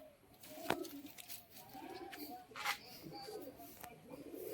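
Kalshira-breed pigeons coo in soft, low, repeated calls under steady background noise, with a few sharper clicks scattered through.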